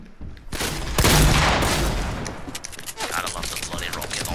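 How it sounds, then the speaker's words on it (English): In a video game, a rocket launcher sets off a burst of booming explosions and crackling gunfire, with a big blast near the start followed by rattling shots and impacts, all fairly loud. "Gotta love the bloody rocket launcher."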